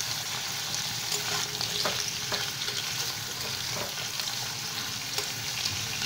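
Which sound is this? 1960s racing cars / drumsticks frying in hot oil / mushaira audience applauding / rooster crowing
drumsticks frying in hot oil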